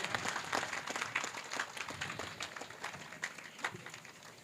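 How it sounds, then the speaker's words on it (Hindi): An audience at a religious discourse gathering breaks into applause, a steady patter of many hands clapping at moderate distance, rising and falling in waves, fairly faint and with no clear speech. "जोरदार तालियां"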